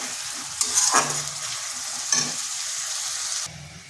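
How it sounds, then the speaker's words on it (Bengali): A spice paste of garlic paste and green chillies sautés in a pan for potato dum. A steady close sizzle runs throughout, broken by two louder scraping stirs before the hiss drops off near the end. "এরপরে মশলাটা ভালো করে একটু কষিয়ে নিচ্ছি যাতে তার কাঁচা গন্ধটা"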